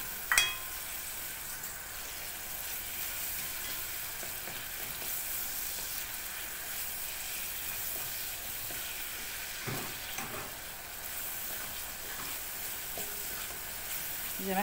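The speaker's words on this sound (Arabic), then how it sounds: "زي ما احنا شايفين اهو بنشوح مع بعض" Grated onion sautéing with a little cumin in a pan, a steady close sizzle and crackle of frying with occasional stirring scrapes throughout.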